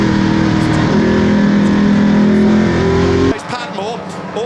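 BMW and Chevrolet Camaro race cars accelerate hard in a Goodwood sprint race, a loud continuous engine roar with shifting revs that cuts off suddenly, followed by a commentator talking over fainter crowd and track noise.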